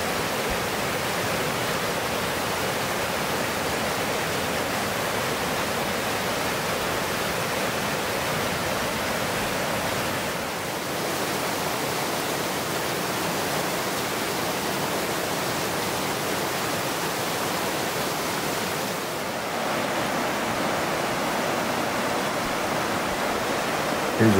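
Falls in Cades Cove pour in a steady, loud, broadband rush of falling water that holds unbroken for the whole stretch, with no voices.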